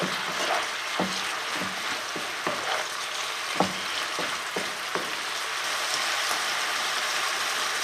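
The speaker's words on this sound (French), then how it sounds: "on va porter à ébullition plutôt pendant 2 minutes" Caramel pork sauce comes to a boil in a pan, a continuous bubbling sizzle at steady volume with a few soft ticks and pops spread across it, close and without voices.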